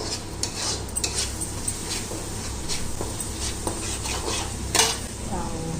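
Fish masala spluttering and sizzling in a hot pan while being stirred, with steady frying crackle and scraping spoon-on-metal clinks throughout, close and continuous with no talk.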